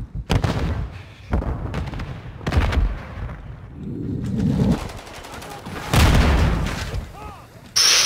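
A grenade is thrown and explodes in Call of Duty: MW3 on the Scrapyard map, among several sharp, loud gunfire bursts and booms, with a heavier blast near the six-second mark and a player talking at times.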